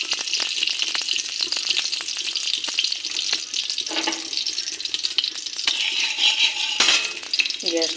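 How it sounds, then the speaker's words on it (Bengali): A spoonful of ghee crackles and sputters in a hot kadai, loud and close, with uneven popping bursts and occasional metallic scrapes. "কড়াইটা গরম হয়ে গেছে, আমি 1 চামচ ঘি দিয়ে দেব।"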